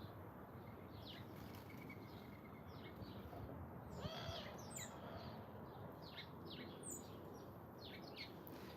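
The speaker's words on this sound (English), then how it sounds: "You guys hear the owl?" A faint owl hoot sounds once in the distance amid quiet outdoor ambience, with scattered small bird chirps around it.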